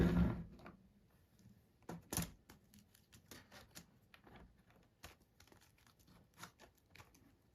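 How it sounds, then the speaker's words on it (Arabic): Keyboard ribbon cable being fitted into a Samsung R540 laptop from 2013: a series of sharp plastic clicks, taps and small handling rustles, a few louder snaps among quieter fiddling, close up with no talking. "ده الكيبورد، هنركب الفلاتة بتاعته."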